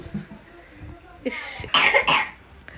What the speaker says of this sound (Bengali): খুব কাশি হয়েছে খুব কাশি